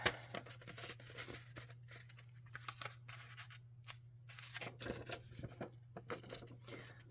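Journal paper pages are folded and creased by hand, giving soft rustles, crisp scrapes and a few sharp snips of paper, close and quiet in an otherwise still room.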